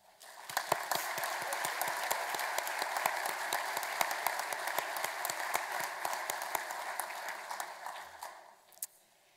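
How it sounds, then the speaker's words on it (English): Sustained applause from a large audience at a graduation ceremony, dense steady clapping that holds loud for about nine seconds before tapering off near the end. "Please join me in a round of applause to recognize all of the people who supported you."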